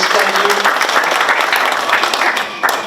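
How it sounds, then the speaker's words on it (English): At a South Sudanese Day celebration, an audience gives a short, loud round of applause for the liaison officer, dense clapping that eases slightly toward the end, with faint voices under it. "Round of applause to thank you."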